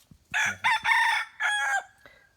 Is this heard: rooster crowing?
yes